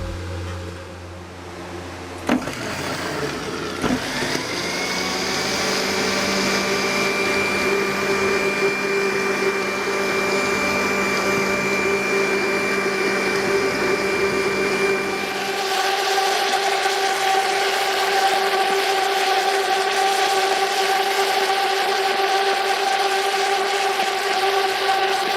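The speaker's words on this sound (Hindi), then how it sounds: "ये चीज़ें डालने के बाद अच्छे तरीके से ग्राइंड कर लेंगे।" Electric spice grinder whirring as it grinds cardamom pods with other spices, starting with a rattle and climbing to a loud, steady high-pitched whine that shifts pitch partway through and keeps running with no talk over it.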